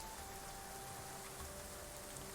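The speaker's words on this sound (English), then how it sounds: "it's a rainy final day of autumn as we head into winter" Steady rain in the medieval colony game Going Medieval on a wet late-autumn day, a soft continuous hiss with faint patter, quiet and even throughout, no voices.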